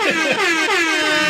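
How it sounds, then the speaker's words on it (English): Loud, blaring air horn sound effect in a rapid stuttering burst of overlapping wavering blasts, filling the clip alone with no talk. "Let me hit the air horns real quick."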